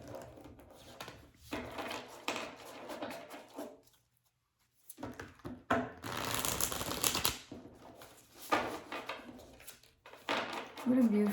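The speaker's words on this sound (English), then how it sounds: "I'm gonna draw one last card out of a different deck." Tarot cards shuffle and slide from a deck in rustling bursts, broken by a brief pause and a sharp flurry of card flicks, with a voice talking intermittently over them.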